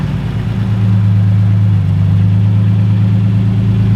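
A swapped car engine runs steadily at idle with a deep, even hum and throttle-body whir, loud and close for the whole stretch, no voices.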